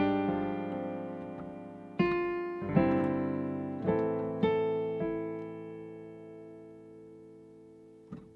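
Piano plays a chorus phrase from a song: a slow ballad with spaced chord strikes that ring out and decay, fairly soft and alone.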